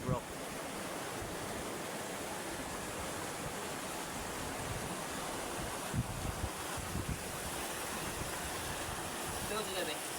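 Rushing water flows in a steady broadband roar after a house was damaged, with gusts of wind buffeting the microphone and faint voices speaking in the background.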